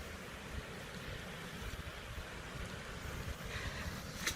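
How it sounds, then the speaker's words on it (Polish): A fast-flowing stream of water in a park gives a continuous faint rushing wash with wind buffeting the microphone, steady throughout with a slight swell near the end and no voices. "Szybki strumień wody."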